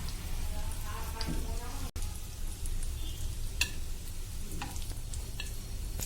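Soya chunk cutlets made with besan fry in hot oil, a steady dense sizzle with faint crackles and a few sharp clicks of a utensil against the pan.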